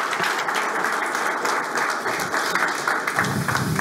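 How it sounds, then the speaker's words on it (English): Audience applause fills a conference hall after an expert panel on AI and blockchain, steady dense clapping lasting several seconds with no voices over it. "Please, warm applause for them."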